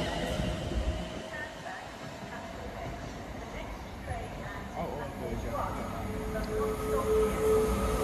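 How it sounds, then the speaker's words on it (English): Passenger train heading from Birmingham New Street to Wolverhampton passes through Sandwell & Dudley railway station, a moderate rumbling roll with a rising whine toward the end while someone talks over it. "there goes 354, right, to Wolverhampton from Birmingham New Street."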